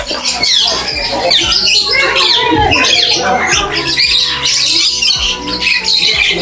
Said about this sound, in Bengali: এখানে কিন্তু প্যারোটের ভিড়েতে অনেক পাখি আছে আপনারা আসলে দেখতে পারবেন